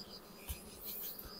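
Honeybees hum faintly around a hive treated with oxalic acid on wet paper, a soft, steady insect drone with a couple of brief louder passes close by.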